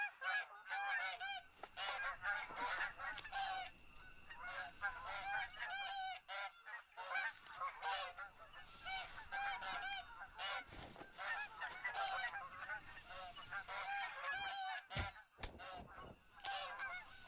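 A flock of geese in the hunting game TheHunter: Call of the Wild honks continuously, many overlapping calls at moderate distance, with a couple of sharp thuds near the end.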